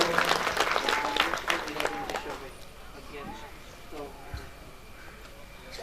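An audience at a Ramkatha religious gathering in Fansa, Machhiwad claps in a loud burst of applause that fades within a couple of seconds into scattered claps and crowd murmur.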